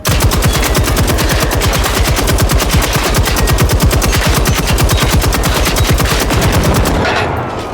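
Sustained automatic gunfire in the game Generation Zero rattles in a fast, steady stream for about seven seconds, loud and close, ending abruptly.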